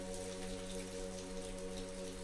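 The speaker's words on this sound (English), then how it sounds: "raindrops falling around them" Soft rain falls on a rainy day in New York, with raindrops pattering in a faint, steady, continuous wash that sounds distant and calm, with no one talking.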